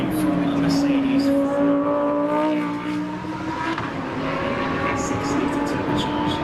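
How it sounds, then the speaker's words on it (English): A Mercedes AMG One hypercar with a 1.6-litre turbocharged V6 drives at the Goodwood Festival of Speed, its engine droning steadily with shifting harmonic tones while someone talks over it. "This is the Mercedes AMG one."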